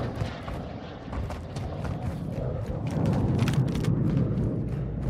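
Rumbling gunfire and booming shots from Warzone 2.0 combat, a dense, steady barrage of bursts with several sharp cracks standing out over a heavy low-end roar.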